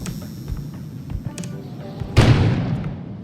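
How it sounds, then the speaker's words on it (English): An explosion outside in the video game Kona: a quiet ambient bed with a few soft knocks, then a single sudden muffled boom that decays over about a second. "An explosion suddenly occurred outside."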